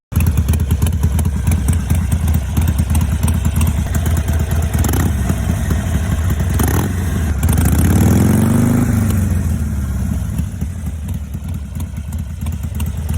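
A Harley-Davidson Sportster Iron 883 fitted with Vance & Hines slip-on exhausts runs loud and close, a deep lumpy idle that swells into a rev and then settles back down.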